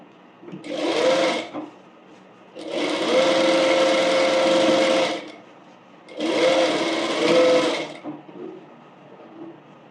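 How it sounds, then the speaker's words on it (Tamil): Sewing machine running a top stitch on an umbrella frock, three separate bursts of fast, steady whirring stitching, the middle one longest, with quiet gaps between them, close and loud. "இதை நம்ம டாப் ஸ்டிச் போட்டு எடுத்துக்கலாம்."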